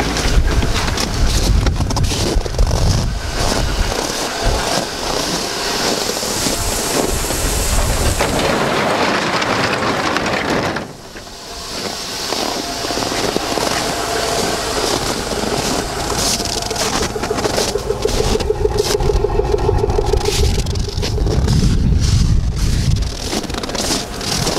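A 2002 Chevy Avalanche Z71 4x4 with a 5.3L V8 cold-starting at about 5 degrees: a loud, steady broadband roar that dips sharply for a moment midway, then rises again and runs on with a faint tonal hum.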